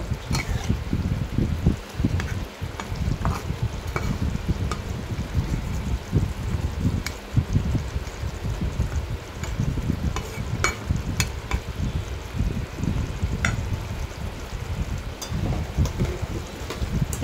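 Koi fish curry gravy bubbles steadily in a pan, a continuous close simmer with scattered soft ticks and crackles and no voices.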